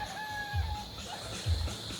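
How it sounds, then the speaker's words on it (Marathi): Fighting roosters kept at a shop stall, with two short low clucking bursts against a busy outdoor background and a faint whistle-like tone early on. "हे फायटर कोंबडे आहेत."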